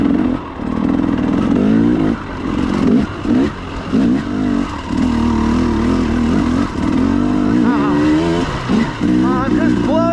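A KTM 300XC-W carbureted two-stroke dirt bike fitted with an RK Tek head rides at low speed, its engine loud and close, throttle blipping and dipping in short surges before revving higher near the end.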